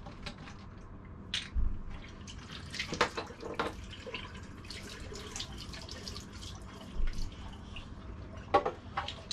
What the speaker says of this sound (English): Pour the water out.